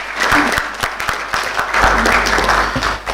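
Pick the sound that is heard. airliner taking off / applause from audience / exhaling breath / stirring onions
applause from audience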